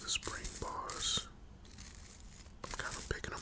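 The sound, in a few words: watch spring bars stirred with tweezers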